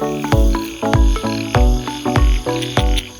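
A frog croaks repeatedly near a pond in rural Thailand where frogs are being caught with baited hooks, giving loud, deep, throaty calls at a steady pace of roughly two per second with no talking.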